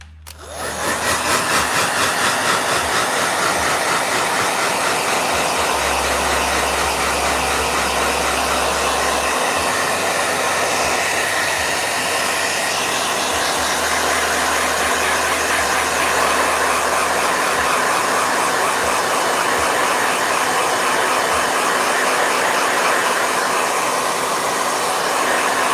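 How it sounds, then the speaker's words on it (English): A handheld blow dryer runs steadily and loudly for the whole stretch, drying red watercolor paint on a sketch, with a constant whooshing roar and shifting low hum. "And more blow dryer."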